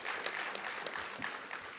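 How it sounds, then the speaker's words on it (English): An audience at a presidential social sector summit applauds in a brief, even wash of clapping that sounds fairly distant and soft throughout. "please give yourself a round of applause"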